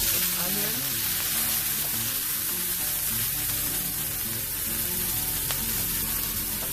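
Chopped onion sizzles steadily in hot avocado oil in a skillet, a loud, continuous frying hiss with no talk over it.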